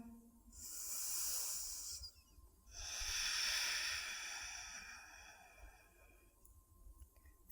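Slow ujjayi yoga breathing, two long, close, airy hissing breaths through a constricted throat, each swelling and fading over about two seconds, with quiet gaps between them.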